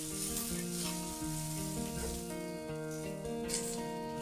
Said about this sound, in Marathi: कांदा घालून घेऊया. छान आपल्याला परतून घ्यायचा आहे,